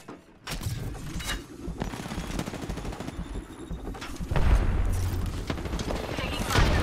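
Rapid gunfire bursts crackle throughout an Apex Legends arena match, dense overlapping shots mixed with other game effects, growing louder in the second half.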